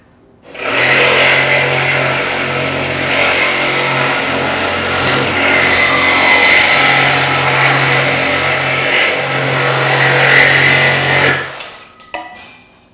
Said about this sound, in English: Using the larger machine with a metal blade, we're now going to cut a 2-inch tubing with a 3mm wall thickness.